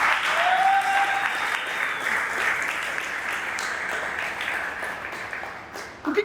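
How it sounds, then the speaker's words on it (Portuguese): A church congregation at a revival service breaks into loud, sustained applause for Jesus, dense clapping that holds for several seconds, thins toward the end, and sits over a faint tone and scattered voices. "Dá um aplauso a Jesus."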